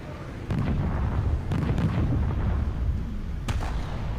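Main gun of a Leopard A1A1 (L/44) tank firing in War Thunder Mobile gameplay, with several heavy booming blasts over a continuous loud engine rumble.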